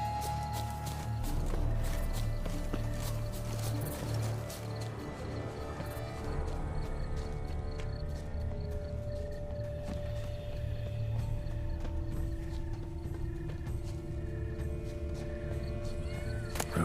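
Roach the horse plods along in The Witcher 3 with steady, close clip-clop hoofbeats, set against a constant background game score.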